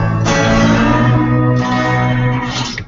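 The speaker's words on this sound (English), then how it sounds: "One of those sounds is sort of like a lap steel you might hear in rock or country music." An electric zither is played to sound like a lap steel, giving sustained, gliding, reverberant tones with two clear new notes struck, loud and close, and no talking.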